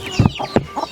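Young chicks cluck in a few short, close bursts, with brief quieter calls in between and no talking.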